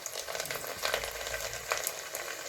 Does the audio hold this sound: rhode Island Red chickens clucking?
no